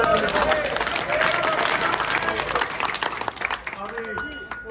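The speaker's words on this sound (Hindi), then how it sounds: "जोरदार तालियां बजाएंगे।" Villagers gathered for a meeting break into loud, dense clapping that carries on for several seconds before tapering off, with voices mixed in.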